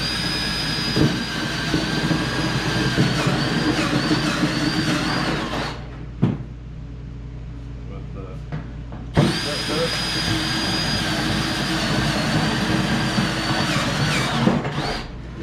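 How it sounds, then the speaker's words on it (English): A power drill boring bolt holes through a car bumper during a front-end body job, a loud steady whine that stops briefly mid-clip, then starts again and runs on. "get lucky enough to drill my bolt holes and hopefully build them out the bumper without too much issue"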